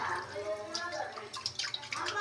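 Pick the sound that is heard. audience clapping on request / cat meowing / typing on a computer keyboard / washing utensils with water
washing utensils with water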